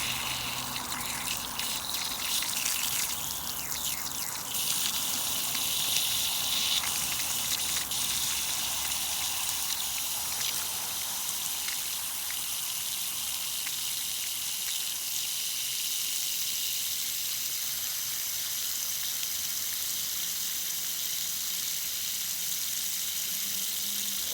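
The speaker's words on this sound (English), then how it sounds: "I'm going to let the water out slow at first. Going to be a lot of air probably." Water gushes and rushes steadily through new piping for a long stretch, a constant loud hiss with slight sputtering early on as air clears.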